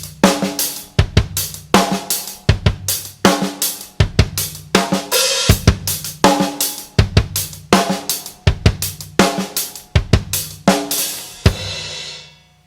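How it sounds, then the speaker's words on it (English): Drum kit playing a linear groove, no two drums struck together, with sixteenth-note offbeats on the hi-hats; dense, steady rhythmic hits close up, loud and alone, with cymbal wash ringing out at the end. "So I decided to try a linear pattern, meaning that no two drums hit at the same time,"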